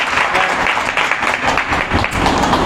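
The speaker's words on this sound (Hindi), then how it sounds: "एक सुंदर ताली बजाएंगे प्रभु यीशु मसीह के नाम से" A church congregation claps together in worship, a dense, steady roll of applause filling the room for a few seconds without any talk over it.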